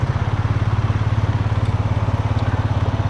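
An ATV engine idles in neutral after a downshift, a steady, close, throbbing low putter with an even rapid pulse and no talk over it.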